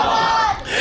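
A large gathering at an Islamic religious talk shouts a slogan in unison, a loud, brief roar of many voices close by.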